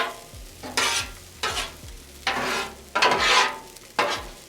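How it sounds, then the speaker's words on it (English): Steak fried rice being stirred in a pan, with five or six loud scraping, tossing bursts in an irregular rhythm over a low sizzle, close up and alone without talk. "And mix everything together, y'all."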